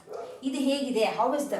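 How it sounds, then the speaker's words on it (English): A dog barks and yips in the background of a home setting during a spoken Kannada lesson, its short calls overlapping a close voice that keeps talking throughout. "I'm really sorry for the dog barking in the background."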